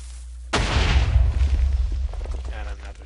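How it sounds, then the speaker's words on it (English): A TNT cannon in a blocky sandbox video game fires one loud, close booming blast that rumbles on with crackling debris for about two and a half seconds. "now we can fire another shot"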